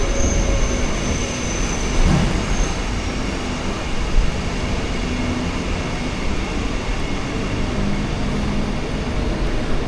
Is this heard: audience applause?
no